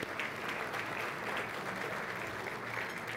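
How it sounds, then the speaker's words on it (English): An audience at a 2014 congressional district address for the 20th District of Texas applauds steadily, a dense, even round of clapping that holds at a constant level throughout with no one talking. "Round of applause for Catamount"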